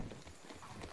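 Quick rhythmic hoofbeats of a galloping horse in the game Apex Legends, steady and fairly loud, with game-like background noise and no talking.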